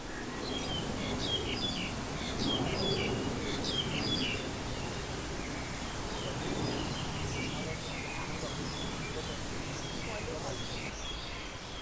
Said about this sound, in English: I'm not making those bird sounds up, those are actually the birds.